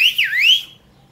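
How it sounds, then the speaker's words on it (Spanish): A person gives one short, loud, shrill whistle that dips and then rises again, followed by near silence. "¿Cómo ves ese silbido?"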